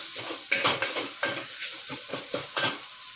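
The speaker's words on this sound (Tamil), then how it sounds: "இதெல்லாம் சேர்த்துட்டு கொஞ்சம் நல்லா வதக்கிடுங்க." Spices and chili powder sautéing in a pan for a mushroom masala gravy, with a spoon scraping and clinking against the metal in a steady series of close strokes over a soft frying hiss.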